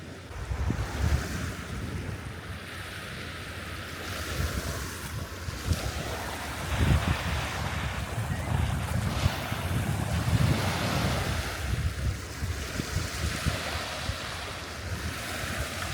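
Waves rolling onto a Lake Superior sandy beach on an overcast day, steady surf wash with strong wind buffeting the microphone throughout.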